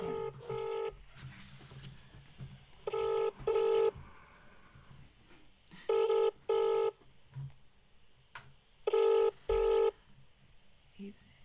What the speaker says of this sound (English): He's not even going to answer his phone.